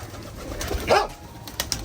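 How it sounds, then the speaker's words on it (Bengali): A single soft bird call, pigeon-like, sounds briefly over quiet background noise, followed by a couple of faint clicks. "পাখিদের কিচির মিচির তো সব সময় থাকে"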